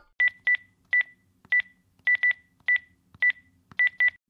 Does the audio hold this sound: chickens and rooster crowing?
no